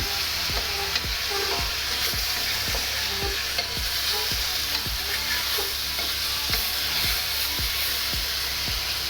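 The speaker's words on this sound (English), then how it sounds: "Nice sear on the tofu." Tofu and beef searing in a hot pan for Cantonese tofu beef, a steady loud sizzle and hiss with regular scraping stir strokes about twice a second, close and continuous with no talking.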